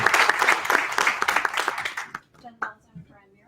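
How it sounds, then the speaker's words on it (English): Audience applause for event organizers at a 1 Million Cups Fairfax gathering, a dense burst of many hands clapping that thins out and fades after about two seconds, leaving a few scattered claps. "let's give our organizers a round of applause"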